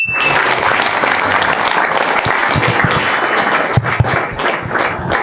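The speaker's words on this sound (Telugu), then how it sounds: "ట్రూత్ ఫర్ యూత్కి ఒకసారి గట్టిగా చప్పట్లు కొడదాం" Loud, sustained applause from an audience at a live talk on mind programming, a dense wash of many hands clapping without pause, close and full throughout.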